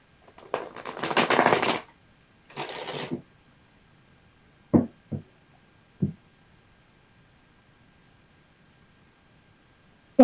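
Two quick bursts of shuffling tarot cards, riffled close by, then a few soft taps and knocks with quiet pauses between.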